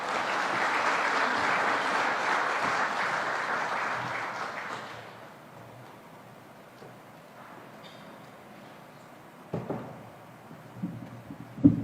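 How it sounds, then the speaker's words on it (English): Audience applause at a quarterly diplomatic briefing with envoys, a steady broad clapping that fills the first five seconds and then dies away into quiet room noise with a few scattered knocks. "Another round of applause for the Prime Cabinet Secretary."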